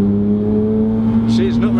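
A Porsche 911 GT3 cruising at very light throttle, its low steady engine hum droning evenly close by with a faint tire and road rush, while a voice talks over it.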